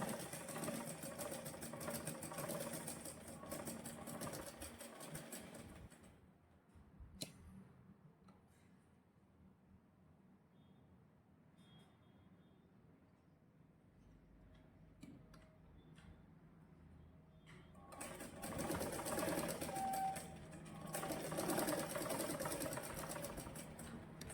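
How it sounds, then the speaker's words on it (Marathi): A sewing machine stitches a tube blouse along a half-inch seam margin: a fast, even mechanical clatter in two runs, one at the start and one near the end, separated by a quieter stretch. "अर्धा इंच मार्जिन आहे, अर्धा इंचावरून शिलाई मारायची."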